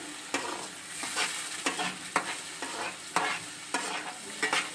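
Chicken curry ingredients sizzle steadily in hot oil in a pan, broken by a string of sharp, close stirring scrapes roughly every half second, with no talking.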